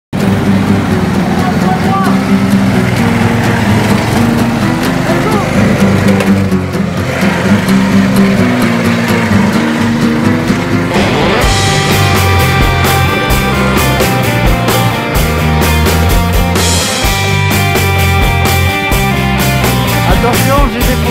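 A racing lawn tractor's engine drones loudly at speed, close and continuous, its pitch shifting as it runs, with voices heard over it.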